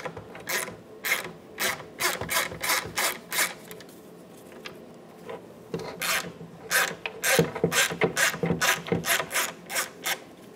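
A ratchet with an E5 inverted torque socket backs out intake manifold mounting studs on a 2008-2020 Dodge Grand Caravan 3.6L, making rhythmic runs of close, crisp ratcheting clicks in repeated bursts with brief pauses between.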